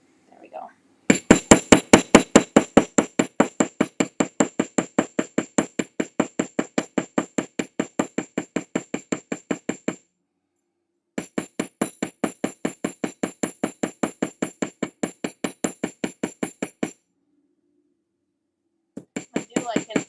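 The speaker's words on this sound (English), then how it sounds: "I only have one up on here that I'm hammering" Steady, rapid hammer strikes on metal jewelry at a bench, a long run of loud even taps with two short pauses, then a brief resumption.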